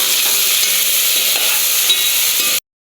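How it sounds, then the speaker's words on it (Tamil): Onions sauté in a hot pan, giving a loud, continuous, close sizzle with faint stirring, then cutting off abruptly near the end. "இப்போ நம்ம வெங்காயத்தை கொஞ்சம் வதக்கிக்கலாம்."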